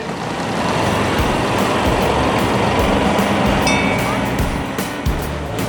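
Train station ambience as a train waits at the platform before boarding for a trip to Strasbourg, France: a steady, loud rumble of rail noise and engines runs throughout, with a brief brighter mechanical tone partway in.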